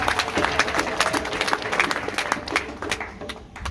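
Applause from an audience at the inauguration of the Panzi hospital, a dense, steady clapping of many hands throughout, fairly close and full.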